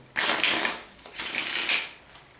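A deck of playing cards is riffle-shuffled twice in a card trick. Each shuffle is a close, crisp, fluttering burst lasting about half a second, separated by a short pause, with no talking.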